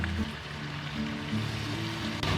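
Marinated chicken stir-fries over medium heat in a pan as Guangdong rice wine is added, giving a faint, steady, close sizzle and crackle with no talking.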